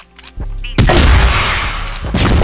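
Gunfire in a competitive ranked video game match, a sharp close blast followed by a loud rumbling burst and another shot near the end, dense and booming with game sound effects around it.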